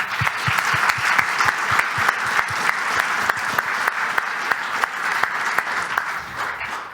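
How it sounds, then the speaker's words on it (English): A live audience at a fire-safety talk about the 2024 Børsen fire applauds steadily and fairly close for about seven seconds, with dense claps that hold even before tapering slightly at the end. "A big applause for Morten."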